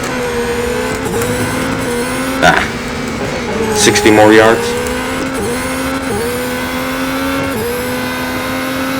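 Formula 1 cars at Yas Marina in a racing game, a steady high engine whine shifting through gears with brief tire and passing bursts, heard under continuous commentary.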